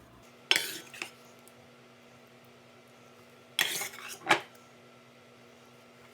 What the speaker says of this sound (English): Now to top the rest of the dish with more sauce.